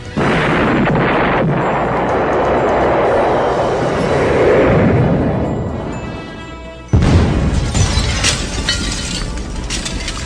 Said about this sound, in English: They were responding to what sounded like a loud series of explosions